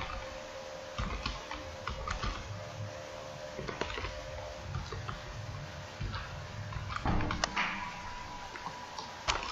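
Steady clicking of computer keys while typing during an Excel Power Query walkthrough, a continuous patter of small close taps with a few louder strokes, no talking.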